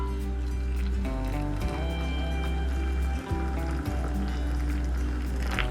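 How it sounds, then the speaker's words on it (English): Hot water pours steadily into a cup, a continuous close rushing trickle with a faint low hum underneath and no voices. "So you're just going to pour into your cup your hot water."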